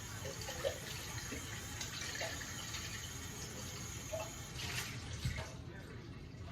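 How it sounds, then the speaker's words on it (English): Running tap water splashes and gushes steadily into a mason jar during a rinse, a continuous moderate wash of water with a few brief clinks and knocks. "I rinsed out my mason jar"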